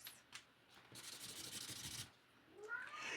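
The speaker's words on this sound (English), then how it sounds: "My kitty wants to come inside." A house cat meows and rubs against a door or window, wanting to come inside; soft scratchy rubbing builds to a broad burst, followed by short, fairly close meows near the end.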